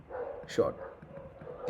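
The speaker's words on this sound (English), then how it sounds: "I'm not sure if you can hear my dogs barking." Small dogs bark and yip a few times in the background of a room while someone talks over them, the barks faint and intermittent.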